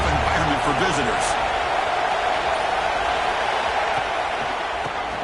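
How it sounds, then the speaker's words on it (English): Stadium crowd at a college football game against Michigan, a dense, steady roar that stays loud and unbroken throughout, with a voice faintly present early on. "Listen to the crowd energy here in the early going."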